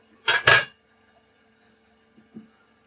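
Rolled cinnamon raisin dough set into a metal bread pan, with two quick close metallic clanks of the pan followed by a faint soft bump, then near silence.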